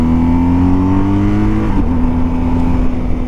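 A motorcycle engine revs up as the rider accelerates to overtake a car on a Peak District road, a loud close steady drone that climbs in pitch with a brief gear shift and wind noise.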